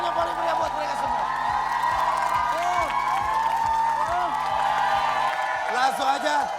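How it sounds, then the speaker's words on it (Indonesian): Studio audience on an Indonesian game show claps and cheers for the red and blue teams, a continuous crowd roar with whoops over a rhythmic music beat, swelling louder near the end. "Sekali lagi saya minta tepuk tangan yang paling meriah buat mereka semua"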